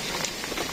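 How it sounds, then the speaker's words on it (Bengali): Rain falls in a rural village, a brief, faint patter of soft broadband hiss with no other sounds over it. "বৃষ্টি হচ্ছে"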